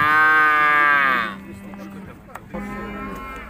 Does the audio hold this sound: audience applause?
no